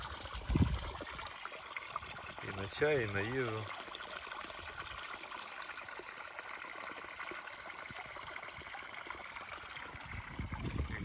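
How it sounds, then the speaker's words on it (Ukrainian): Spring water trickling from one of the springs at Ostvytsia in autumn, a soft continuous trickle close by, with a person speaking briefly over it. "Звідси набираємо воду"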